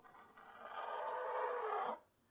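A paper trimmer (massicot) slices through paper while a pop-up card is made, giving a single dry scraping cut of about a second and a half, fairly close and moderately loud, then stopping abruptly with no talk.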